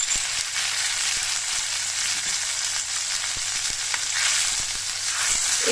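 Crushed raw tomato hits a methi masala frying in hot oil, setting off a steady, dense sizzle that stays loud and close throughout, with faint ticks of stirring and no talking.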